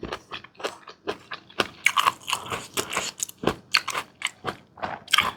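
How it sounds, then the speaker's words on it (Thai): Crunchy chewing of pickled luk niang (djenkol beans) close to the mic, a rapid series of sharp bites and crunches in an uneven rhythm, with no talking. "มากินดูก่อน เผื่อมันจะกรอบ"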